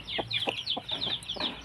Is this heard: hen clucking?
yes